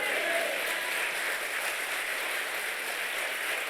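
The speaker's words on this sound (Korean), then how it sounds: "우리 하나님께 영광의 박수" Congregation applauding during an evening revival service in a church, a steady, dense wash of clapping that holds evenly from start to finish with no break.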